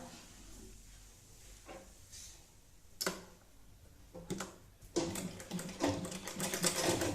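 Sewing machine stitching a Tikali hat in short bursts: uneven runs of mechanical clatter and needle ticking, starting and stopping, growing steadier and louder toward the end, heard close with no talking.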